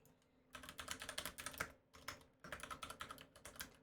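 Fast, irregular keystrokes on a computer keyboard, typed in two bursts separated by a short pause, close and fairly quiet with no talking.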